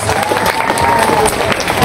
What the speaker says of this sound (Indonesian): Tepuk tangan untuk MI Bypass.